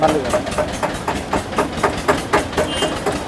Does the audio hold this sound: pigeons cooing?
no